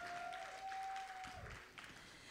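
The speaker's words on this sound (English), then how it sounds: "Please clap for her until she takes her seat." A studio audience at a political chat show claps for a guest, steady faint applause throughout with a soft tone running beneath it.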